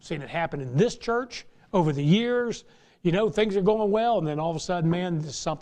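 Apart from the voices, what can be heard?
No everyday noises stand out.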